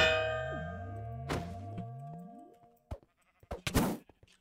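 A magic sheep in the video game Mage RPG Reborn gives a loud, wavering bleat that slides downward over about three seconds, followed by a few sharp thunks and clangs afterward, with no talking.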